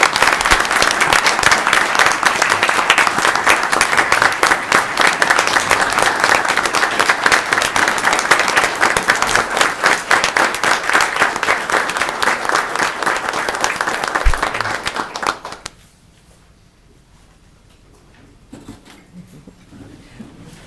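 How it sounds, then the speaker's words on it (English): A city council meeting audience gives a long, loud round of applause for a group of police and fire department members, dense steady clapping that cuts off abruptly near the end, leaving a quiet room. "we'd all like to give you and your group a round of applause"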